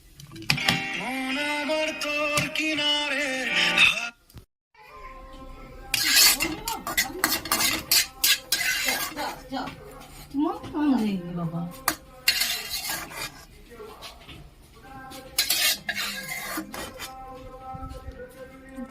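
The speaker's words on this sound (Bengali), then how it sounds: "গাজরগুলো একদম ভাজা হয়ে গেছে, আমি তুলে নিলাম" Fried carrots are lifted from a pan with a metal utensil, giving repeated scraping, clinking and rasping against the cookware, broken by short pauses.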